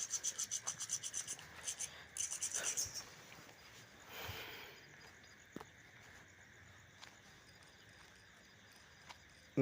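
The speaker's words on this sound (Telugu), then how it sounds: "ఇట్లా ఎక్కువ ఉన్నది యాక్సెల్ బ్లేడ్తో ఇట్లా కట్ చేసి" A hacksaw blade cutting off excess pipe during wash basin plumbing work, with quick rhythmic rasping strokes up close for a few seconds, then quieter scraping and a few faint knocks.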